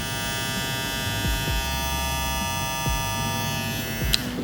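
A WMARK 2039 electric hair clipper with a plastic lower body and metal top runs steadily at close range, a constant buzzing hum with strong harmonics, briefly switching speed before clicking off near the end.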